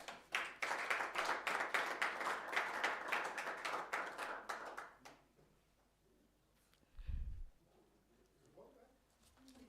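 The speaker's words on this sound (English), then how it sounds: "Can we please give them a round of applause?" Audience applause at a book launch, a dense burst of clapping for about five seconds that then fades out, followed by quiet room tone and a brief low thump.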